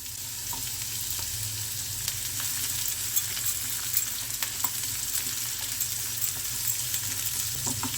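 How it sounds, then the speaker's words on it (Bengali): Onions frying over a high flame in a pan for beetroot upma sizzle continuously at moderate volume, with scattered ticks and stirring clatters throughout. "পেঁয়াজটা হালকা সতে হয়ে যাক"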